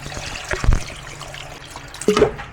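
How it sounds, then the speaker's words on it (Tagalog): Water is poured into a pot of braised pork belly with cinnamon, star anise and soy sauces, heard as a short liquid splash and trickle, close and moderately loud. "Let's add some water."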